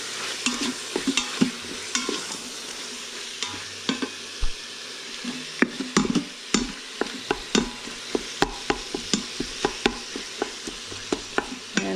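Deer vegetable soup ingredients brown in a pot under a continuous sizzle while a spoon stirs, scraping and knocking against the pot in frequent irregular clacks, close and fairly loud.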